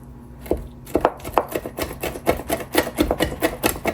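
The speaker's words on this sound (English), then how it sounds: "You can chop like this." A knife chops through kimchi ingredients on a board in a home kitchen, giving a steady run of crisp, close cuts about every quarter second, loud and unaccompanied.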